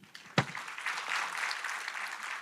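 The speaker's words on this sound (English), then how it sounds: "give a warm applause to my fellow panelists" Audience applause for the panelists at the close of a session at a 2023 summit, a broad steady clapping that swells after a sharp initial clap and continues throughout.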